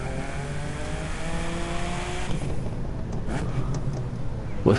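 A BMW in the racing game The Crew 2 on a test drive, its engine droning with steady harmonic tones that shift as it accelerates, then ease off, with a few faint knocks near the end.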